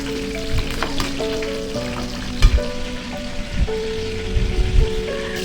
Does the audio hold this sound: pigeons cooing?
no